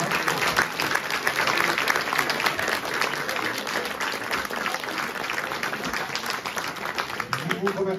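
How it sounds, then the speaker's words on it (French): Audience applauding a choir at a community concert, dense steady clapping filling the whole stretch without a break. "Je pense qu'ils méritent des applaudissements."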